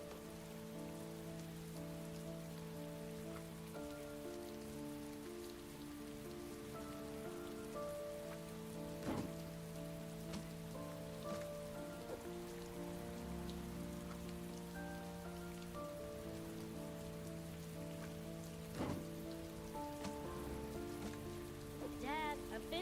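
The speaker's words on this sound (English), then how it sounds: "It's raining." Steady rain patters in the Heavy Rain video game, a quiet, continuous hiss of drops on surfaces with a few sharper clicks, set against soft tonal background music and no talking.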